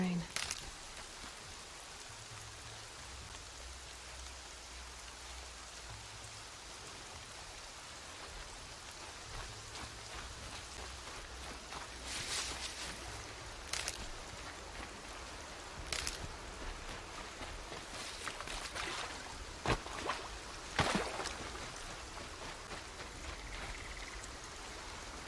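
Steady rain in Horizon Zero Dawn, a soft continuous hiss of falling water throughout, with occasional louder bursts and a low rumble underneath.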